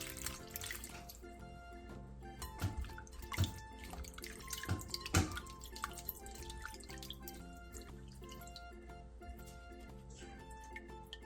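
Salted cucumber and radish being rinsed in water, with irregular splashes, drips and sloshes in a bowl or sink, fairly quiet and close, with no talk.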